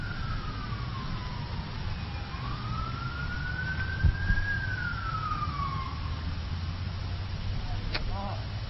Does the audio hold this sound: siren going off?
yes